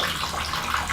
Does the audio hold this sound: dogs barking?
no